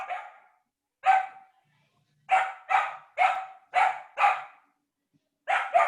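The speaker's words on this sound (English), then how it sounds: "I hear the dog barking" A dog barks in short bursts, a single bark, then a quick run of five sharp barks, and a final pair after a pause, fairly clear against a quiet background with no talk.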